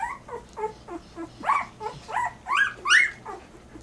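Several two-week-old puppies whimper and yip in a string of short, high, squeaky cries that grow louder and more insistent toward the end, close by.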